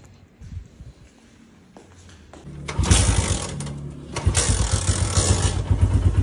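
A motorcycle engine being started in gear with the clutch held: a low, sputtering mechanical clatter that catches and roars into a loud, rough idle, then surges again in a second rising rev.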